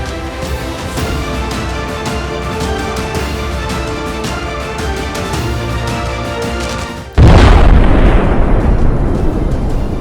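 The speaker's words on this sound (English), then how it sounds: "The truck brought a dramatic explosion, 2 injured." Steady rumbling background noise is suddenly broken by a loud, violent truck explosion that roars and crackles, then slowly decays.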